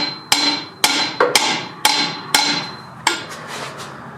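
Hammer blows on a Toyota 4Runner rear shock during replacement: six sharp, loud metallic strikes at irregular intervals, each ringing briefly before the next, with fainter taps trailing at the end.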